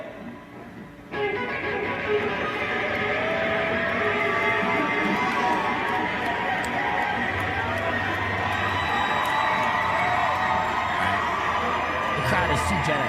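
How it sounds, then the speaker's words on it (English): Crowd at a live music performance cheers and whoops, a sustained mix of shouts, scattered laughter and chatter rising after a quieter opening moment and staying fairly loud throughout, with voices talking amid the noise. "anyone there that was cheering, giving him sympathy cheers"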